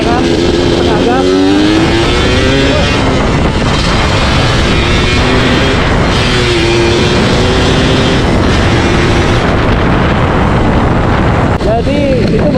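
Motorcycle engine with a large carburetor revved to half throttle, rising and falling in harmonic sweeps over steady wind and road noise, with a person talking over it.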